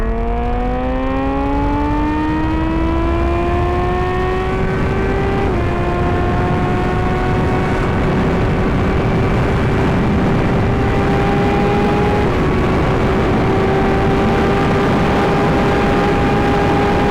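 A Suzuki GSX-R 750 sport motorcycle with an upgraded 16-tooth sprocket rides along the road, its engine note climbing steadily through the gears, with two clear upshifts. The engine drones loud and close over steady wind and road rush, and no one speaks.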